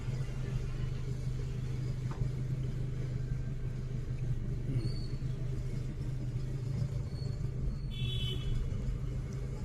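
A car rolls along slowly and steadily during a driving lesson, its engine a low even rumble with road noise filling the cabin. A faint beep sounds near the end.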